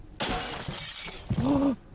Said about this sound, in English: We just smashed the glass in the bedroom.